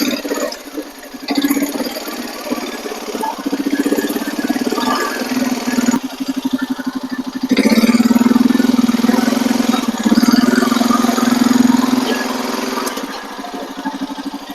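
A quad ATV engine revs up with the parking brake on, a loud close droning motor that climbs and holds higher partway through, steady throughout with no pauses.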